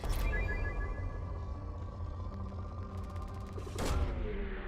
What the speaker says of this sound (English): Launching probe. Probe away.